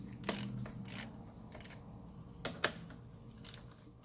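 Metal hand tools working loose the terminal connections on an Infiniti G20's battery, giving several sharp clicks and ratcheting clatters spaced across the moment, close and moderately loud, with no talking.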